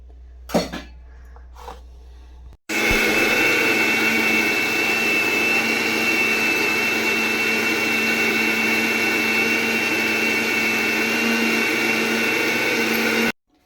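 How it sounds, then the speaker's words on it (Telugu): A kitchen mixer grinder runs steadily for about ten seconds, loud and close, churning semolina into smooth dosa batter, after a few brief clicks and handling knocks as it starts up. "ఇప్పుడైతే మిక్సీ అయితే పట్టేస్తాను"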